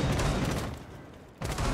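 A loud sniper shot booms in a Rainbow Six Siege match, a sharp blast that fades and is followed by another burst near the end of the short clip.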